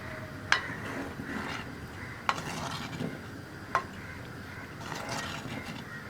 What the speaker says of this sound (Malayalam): ഇനി അരപ്പും കൂടി ചേർത്ത് നമുക്ക് നന്നായിട്ട് ഇളക്കി മിക്സ് ചെയ്യാം